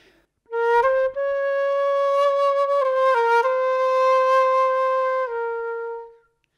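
Solo flute melody played smoothly and legato in a classical manner, sustained connected notes close and clear, fading out at the end.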